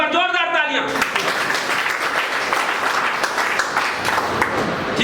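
Loud, dense audience applause fills a business leaders' meeting hall, sustained and steady after a brief voice at the start, with occasional louder claps standing out.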